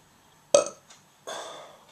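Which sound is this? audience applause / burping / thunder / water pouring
burping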